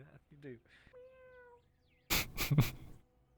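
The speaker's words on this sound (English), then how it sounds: "I heard the ghost cat." A cat meows a few times at close range, followed by a sudden louder burst of noisy sound.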